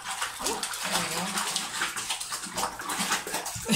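Water sloshes and splashes steadily as a cat is rinsed during a bath, close and continuous, with a voice speaking softly over it.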